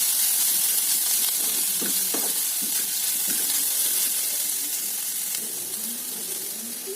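Crushed small onions with chili powder and turmeric frying in a pan, a loud, close, continuous sizzle with a few stirring scrapes early on, easing slightly toward the end.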